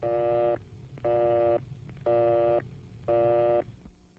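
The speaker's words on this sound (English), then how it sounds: "If the line is busy, you'll hear this busy signal." A telephone busy signal repeats four times in even, rapid on-off beeps, loud and steady with a low hum underneath.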